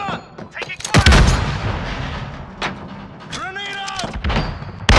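Gunfire and explosions from Call of Duty Modern Warfare gameplay: several heavy booming shots and thuds at uneven intervals, loud and close, with shouted voices and a brief rising electronic tone partway through.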